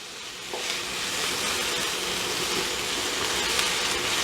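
Vegetables for a vegetarian shepherd's pie sizzle and fry steadily in a pan, a dense hissing crackle that swells after a quiet start and holds level and close throughout, with no voices.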